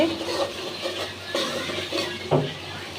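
Spice paste (masala) sautéing in a pan in a home kitchen: a soft, steady sizzle broken by a few scraping stirring strokes, fairly faint and close.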